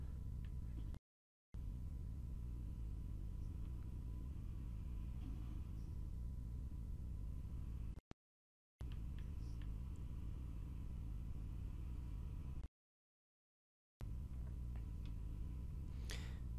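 Vehicle engine in Halo 1 from Halo: The Master Chief Collection, a low, steady rumbling drone running at moderate level, briefly cut out by a few short silent gaps.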